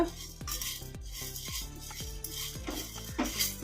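Chana dal frying on low flame in a hot kadai, stirred with a spoon: repeated scraping and clinking strokes of metal against the pan over a faint sizzle, close and steady with no voice.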